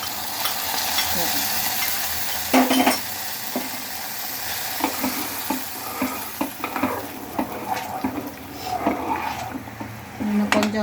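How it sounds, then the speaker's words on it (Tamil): Cashew nuts roast in ghee in a pan, giving a steady sizzle broken by repeated scraping and clinking strokes of a stirring spoon, moderately close, with a voice talking intermittently over the cooking. "நம்ம முந்திரி பருப்பை நெய்யில் வறுத்து"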